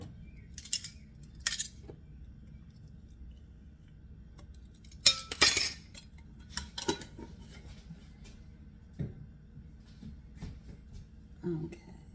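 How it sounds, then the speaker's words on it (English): Scattered clinks and scrapes of a utensil stirring rye flaxseed sourdough bread dough in a bowl, a few sharper knocks among quieter rustling, with no talking. "We're going to just stir it right back in and leave it alone."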